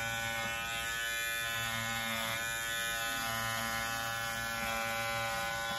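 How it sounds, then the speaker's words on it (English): Electric clippers shaving down the pile of a tufted rug, a steady close electric buzz with a droning hum throughout and no talking. "Just come around and just shave down the rug, get it all nice and clean."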